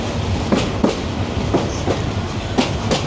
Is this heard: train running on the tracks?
yes